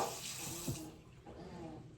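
Tap water runs steadily as dye is rinsed off a Draco in a sink, a close, continuous splashing rush with a brief louder splash partway through, then a softer flow.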